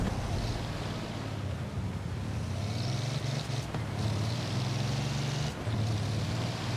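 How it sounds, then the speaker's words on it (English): Engine of a Napier-Railton car in Forza Horizon 4, a steady droning roar with a thin whine rising and falling faintly over a constant wash of noise. "that sounds like an aircraft, and there is some whine from the engine"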